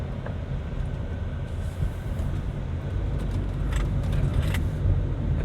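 A Hyundai HB20 taking a curve on a mountain road, heard from inside as a steady loud rumble of engine and road noise with faint rattles and ticks.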